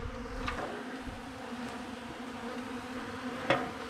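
Bees gathered on the ground around a pollen substitute near the hives, giving a faint, steady low buzz with a couple of brief louder passes close by.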